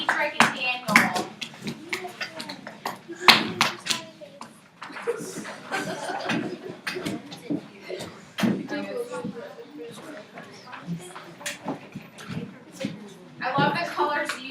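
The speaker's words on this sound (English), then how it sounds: "Round of applause for Amy and Lisa." Classroom applause for presenting students: scattered hand claps and chuckles among children, mixed with steady talking throughout.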